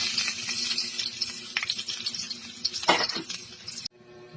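Ginger dropped into a pan already frying annatto (atsuete) seeds, giving a close, steady sizzle with bursts of crackle and stirring scrapes before cutting off abruptly near the end.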